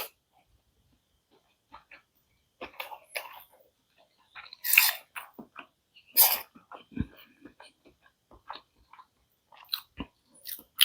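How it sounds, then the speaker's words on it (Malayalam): Someone eats chicken Schezwan fried rice at a restaurant in Kollam, with scattered close chewing, crunching and mouth sounds in short bursts between quiet gaps, plus a few brief louder bites or breaths. "ഫസ്റ്റ് ടൈമാണ് ഷെസ്വാൻ ഫ്രൈഡ് റൈസ് കഴിക്കുന്നത്"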